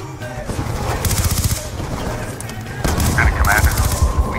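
Rapid bursts of automatic gunfire crackle through a Call of Duty: Black Ops II firefight, loud and close, with sustained volleys and a heavier flurry of shots toward the end.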